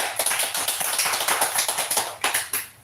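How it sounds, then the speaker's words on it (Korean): A church congregation claps together during a Sunday worship service, a dense run of sharp overlapping hand claps that carries on steadily for several seconds, close and fairly loud, with no talking over it. "축복의 박수 한번 하실까요?"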